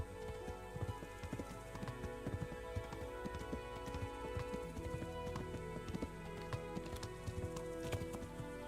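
Hooves clip-clop in a quick, steady galloping rhythm, close and fairly loud, over a constant low background rumble, from a horse in the video game Kingdom Come: Deliverance.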